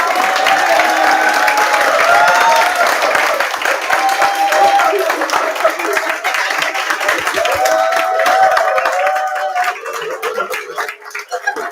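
An audience claps during a lecture, sustained loud applause from a crowd that thins toward the end, with a voice speaking over it.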